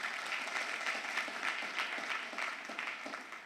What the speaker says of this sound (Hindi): ताली बजा लो, हनुमान मोड का बंदा।